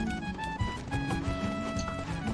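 Horse hooves clip-clop steadily in the video game Black Desert Online, a close, continuous rhythmic trotting over a layered background of game sound.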